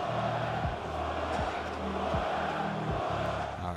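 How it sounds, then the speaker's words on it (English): A stadium crowd in the football game FIFA 17 roars and chants steadily throughout, a dense, continuous wash of voices with no break. "Everyone's cheering his name."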